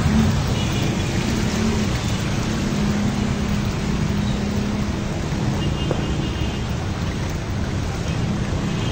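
Floodwater left by typhoons in Marilao, Bulacan rushes in a constant, loud broadband wash, with a low rumble of passing motorbikes beneath it and no pause throughout.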